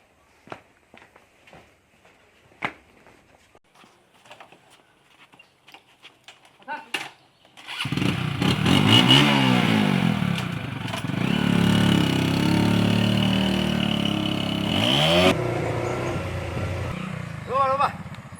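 A motorcycle engine starts after some footsteps and scattered knocks, then runs loudly with revving swells for several seconds before dropping off, with voices talking around it.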